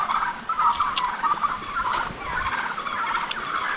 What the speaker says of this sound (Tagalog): Maingay yung pabo.